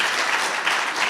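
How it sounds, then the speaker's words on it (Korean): A church congregation claps together during a Sunday service, a loud, close, dense burst of applause with slight swells, filling the whole short moment with no speech on top. "박수 쳐. 박수 한번 해."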